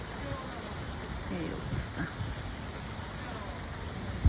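Steady rain pours down over a waterlogged road, a constant hiss close at hand, with a few faint bumps and a brief spoken remark over it.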